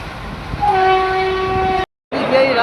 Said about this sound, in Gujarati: રાજકોટ રેલવે સ્ટેશન, તો રેલવે સ્ટેશન કંઈક આવું જ છે અહીંનું.